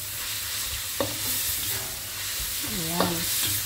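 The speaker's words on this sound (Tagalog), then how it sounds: "naggigisa na po ako ng pork belly para sa ating celery" Pork belly sautés in a pan for a dish with celery and prawns, giving a steady sizzle that fills the clip, while a few short scrapes of stirring come up close and a brief voice sound is heard.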